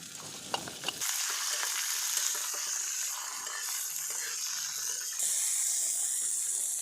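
Green chilies frying in hot oil for an eggplant thecha, a steady bright sizzle that starts abruptly after a few stirring clicks and holds loud and close to the end, with no talk.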